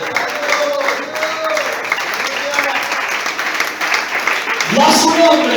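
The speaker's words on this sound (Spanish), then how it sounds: "Aplauda que vive." An evangelical congregation claps together during a Spanish-language sermon, a continuous wash of applause under a preacher's voice that keeps speaking, with a louder swell near the end.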